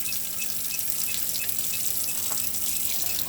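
Water runs steadily from a tap in a 2017 Bessacarr Cameo 650 caravan, fed by the onboard water pump, giving a continuous close hiss of flowing water with no voices.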